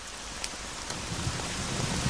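Steady rain pours down in a dense, continuous hiss, with a faint low rumble underneath that grows slightly louder toward the end; a tree has fallen in the rain.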